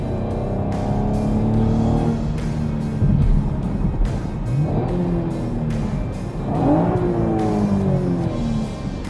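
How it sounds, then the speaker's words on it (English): A 2016 Chevrolet Camaro engine roars loudly and steadily through a tunnel in Detroit, with rising and falling revs echoing off the walls and no talking. "let this car kind of roar."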